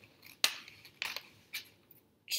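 Scissors snip through paper to cut out triangles: four or five crisp, separate cuts, close and clear in a quiet room.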